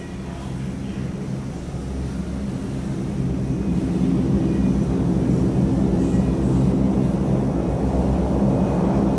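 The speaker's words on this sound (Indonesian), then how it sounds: "Ada pesawat." An airplane flying overhead in a video game, a broad engine drone that swells louder partway through and holds steady, with no speech over it.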